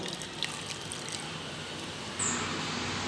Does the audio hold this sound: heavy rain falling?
no